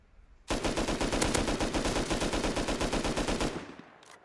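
Sustained rapid gunfire from the online survival game Rust, loud and dense for about three seconds of rapid automatic bursts before stopping abruptly, followed by one faint distant shot.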